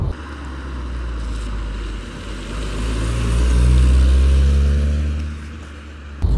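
Steady road and wind noise inside the cabin of a 1.4-litre car cruising at 60 mph: a loud, continuous low rumble with a broad hiss that swells slightly midway and carries no speech.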